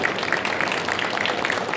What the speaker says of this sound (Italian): mi permetto di chiedervi un gigantesco applauso alla storia della pasticceria italiana